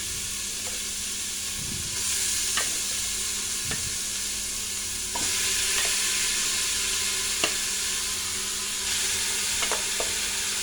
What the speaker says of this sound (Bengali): এখন একদম সব মিক্স করা উপকরণগুলো এখানে ঢেলে দিচ্ছি।